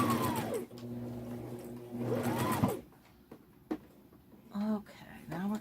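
A domestic sewing machine stitches fabric in two loud whirring bursts, then stops while the fabric is turned at a corner, with short clicks and brief talk in between.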